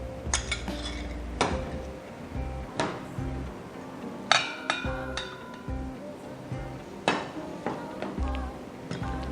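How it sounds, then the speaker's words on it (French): Cream cheese and Roquefort being mixed with a spatula in a bowl: repeated clinks and scrapes of the utensil against the dish, close and moderately loud, with soft kitchen background noise between strokes. "nous mélangeons tout ça à la maryse afin d'obtenir quelque chose d'homogène"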